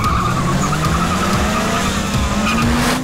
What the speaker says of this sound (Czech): A zrovna jede nějaký auto,